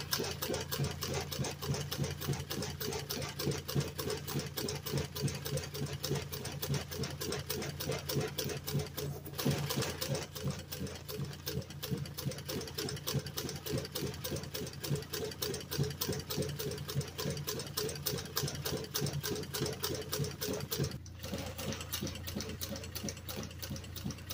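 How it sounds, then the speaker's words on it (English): A sewing machine stitches plaid tartan fabric for a Corvette cargo area cover, its rapid needle chatter running steadily and close throughout with only brief pauses and no talk. "I'm sewing it with about a 3/8 inch sewing allowance"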